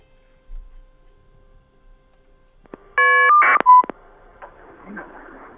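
Telephone keypad tones dial out as a radio talk show connects a caller: a short burst of stacked dialing beeps followed by ringing-line blips and a brief noisy patch, after some faint background rustle.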